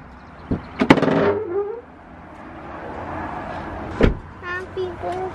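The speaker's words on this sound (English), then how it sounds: "Listen to what my truck sounds like when I open it." A pickup truck being opened, with a sharp clunk of the latch and door, squeaky creaks, then another clunk a few seconds later, close by, with faint voices in the background.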